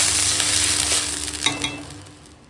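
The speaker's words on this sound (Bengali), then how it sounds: "তো দেখো এখন আমটা ভাজা হয়ে গেছে" Mango pieces sizzle in a pan while being fried for a chutney, a steady hiss close up with a few soft stirring scrapes, fading slightly toward the end.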